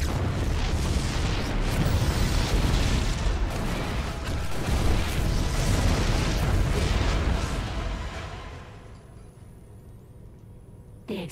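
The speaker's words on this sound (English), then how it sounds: "The explosions have stopped." Explosions in the video game StarCraft II: Heart of the Swarm, a loud continuous rumble of deep booms and blasts that rolls on for several seconds, then drops away to a quiet hum.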